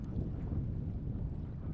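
Wind gusting across a shallow early-spring catfishing bank, heard as a steady low rumble of microphone buffeting, fairly quiet and alone for under two seconds.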